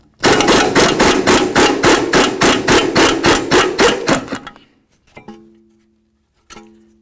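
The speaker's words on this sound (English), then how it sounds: "I'm going to use my 18mm wrench on the bolt side, and then I'll use an 18mm socket on the nut" An 18mm wrench and socket work loose the ball joint pinch bolt nut on a 2007-12 Dodge Caliber's front lower control arm: about a dozen loud, evenly spaced metallic clacks in a fast run, then a few faint knocks and a short ringing clink.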